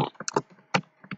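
Keys tapped on a computer keyboard while entering Prolog input and output code, a quick irregular patter of close clicks in short bursts with brief pauses between them.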